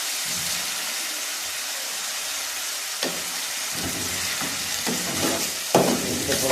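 Chicken frying in a pan with powdered spices, a constant loud hiss of sizzling oil with a few spatula scrapes and stirs near the end, up close, no one talking.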